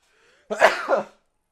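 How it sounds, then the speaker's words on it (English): A single sharp sneeze bursts out after a faint breath, close and loud, then quickly fades. "I did sneeze."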